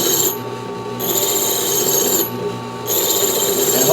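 A hand metal file removing a burr from a circle cutter tool made for pipe organ building, heard as long, close, rasping strokes that repeat at an even pace, with no talk.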